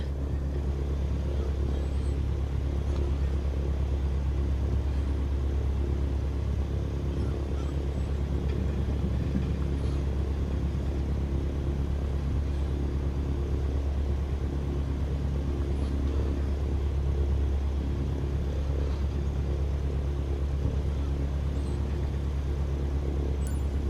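A light aircraft engine idles at low power while taxiing in Microsoft Flight Simulator, a steady, even drone with a deep hum underneath that holds constant throughout.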